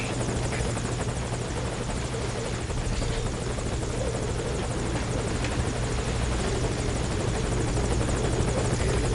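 A helicopter hovers at a landing zone in Metal Gear Solid V: Ground Zeroes, its rotor producing a loud, steady, close thudding roar that continues without a break throughout.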